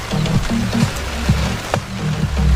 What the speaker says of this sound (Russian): Сейчас идет дождь.